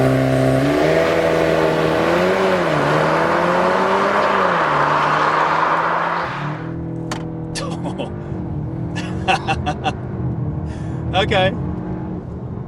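A Cupra Formentor VZ accelerates during a timed run, heard from inside. The engine climbs through gear changes, then settles under cabin noise while people talk and make brief clicking sounds.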